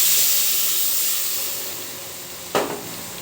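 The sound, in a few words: water poured into pan of fried tomato, sizzling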